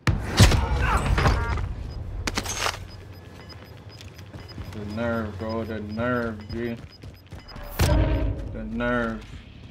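Pistol gunfire in the Call of Duty video game on Rebirth Island, with sharp shot bursts early, another near the middle and a loud one later, amid game noise while players talk.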